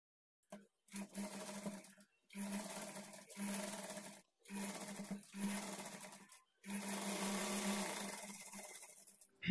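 A sewing machine stitches lining onto a blouse in five or six separate runs with short pauses between them, a close, loud, steady whir that stops and starts repeatedly.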